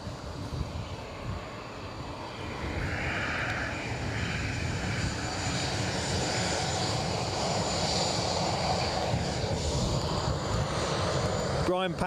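Steady roar of airplane engines at an airport during live planespotting of a JetBlue New York to Edinburgh flight, a broad continuous rumble filling the scene with no clear talking.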